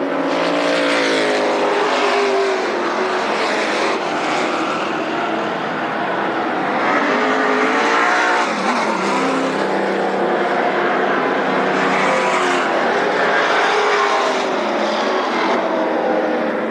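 Super stock cars race at Berlin Raceway during a feature on opening night, engines roaring loudly and continuously with rising and falling pitch as the pack passes, under faint background sound.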